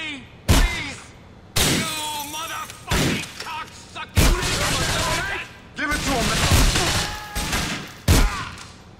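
Heavy gunfire in the video game GTA IV: The Ballad of Gay Tony, loud close bursts and single shots repeating in separate volleys over roughly nine seconds, with voices talking between and over the shots.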